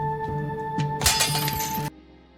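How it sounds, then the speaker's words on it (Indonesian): Bulletproof car glass shatters under attack from a supersonic emitter device, a loud one-second burst of breaking and crunching glass over a steady tonal hum, cutting off abruptly into quieter background. "Kaca anti peluru pun sampai hancur."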